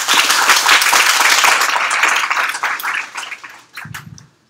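Lecture audience at a university general-education talk bursts into loud, dense applause to welcome the speaker, holding strong for several seconds before thinning into scattered claps and fading out.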